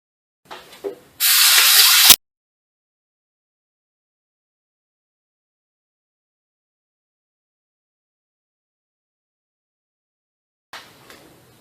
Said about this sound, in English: I'm going to clean this connector with compressed air and brake cleaner and stuff.